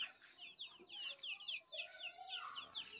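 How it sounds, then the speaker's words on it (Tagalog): Chickens inside a netted enclosure cluck and chirp in a steady, repetitive chatter, faint and a little distant, with a low hum underneath. "May mga manok dyan sa loob"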